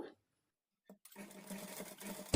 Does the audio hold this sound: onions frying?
no